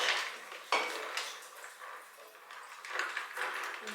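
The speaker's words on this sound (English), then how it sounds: "Let's give it a little stir." A spoon stirring a canned Washington Apple cocktail, with light metallic clinks and scrapes against the container for a few seconds, fairly quiet and close, with no talking.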